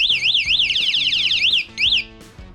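A loud car-style alarm built into an electric bike, shrieking in rapid rising and falling sweeps, close by and alone, cutting out briefly before resuming.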